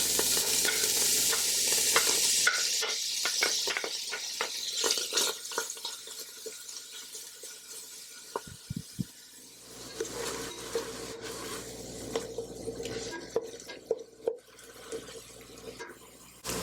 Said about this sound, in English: I'm going to go ahead and brown my sausage